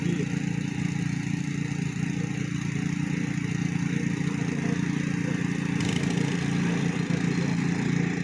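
A water pump engine runs beside a fish pond, a steady, unbroken mid-pitched drone that stays at an even loudness throughout with no talking.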